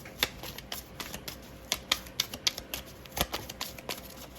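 Louise Hay Power Thought cards shuffled by hand, a quick run of crisp riffling snaps and flicks at close range, steady and unhurried with no voices.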